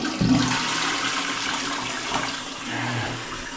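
A toilet flushes in a newly built house in a Philippine village, its water supplied by a freshly installed pressure pump; a steady rushing wash runs close and fairly loud for several seconds with no talking.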